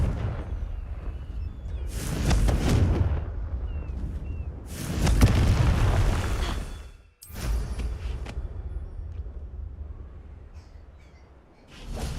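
Confringo blasts from Hogwarts Legacy, the fiery explosion spell going off in heavy, roaring bursts that swell and fade, two big booms followed by a rumbling tail, loud and close.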